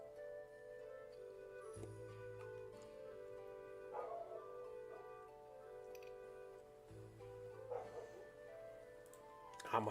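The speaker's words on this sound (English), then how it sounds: "Ah, my dog's going off. She heard the neighbors." A pet dog barks in the background of a house in a few faint, separate bursts, heard behind Pokémon game music.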